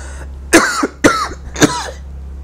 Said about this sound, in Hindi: माफी चाहता हूं बच्चों खांसी के लिए,